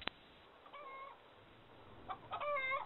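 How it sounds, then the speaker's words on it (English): A chicken clucking in short bursts, a brief soft call early on and a louder run of clucks toward the end, near and clear over a quiet background. "Oh, my chicken's right here, man."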